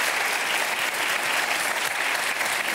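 Audience applause after a French comedy stage performance, a steady dense wash of clapping filling the whole stretch at even loudness with no voices on top.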